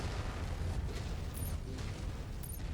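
An ammo explosion in a mech combat video game makes a dense, rumbling blast that rolls on steadily for a few seconds, heavy in the low end, with faint high clicks.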